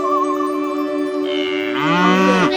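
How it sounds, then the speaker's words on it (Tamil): A long, loud cow moo swells and bends in pitch, close and clear with no other sounds around it. "ஆடு மாடு சத்தம் அங்க போனா ஆடு மாடு தொழுவும் இருக்கு"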